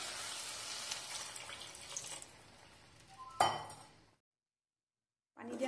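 Water poured into a pan of frying cashews, tomatoes and onions, a hissing splash with a clink of utensils, then a brief silence before a faint clatter returns.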